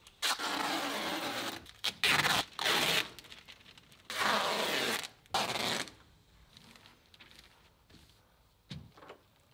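Adhesive tape is pulled off the roll in several loud, rasping bursts and pressed over house wrap seams. The sticky ripping comes close and clear, with quieter handling between strips and no talk.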